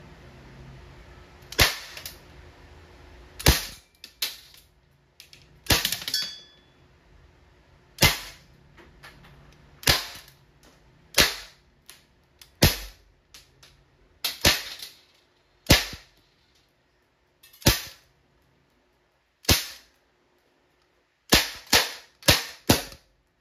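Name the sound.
Umarex Colt Defender non-blowback airgun pistol firing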